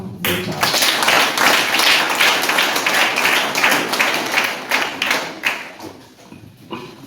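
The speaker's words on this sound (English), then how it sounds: "So they deserve an appreciation, be it verbal or a hand clap." Sustained applause and hand clapping for teachers at a nursery and primary school event, a dense crowd patter holding steady for several seconds and then thinning toward the end.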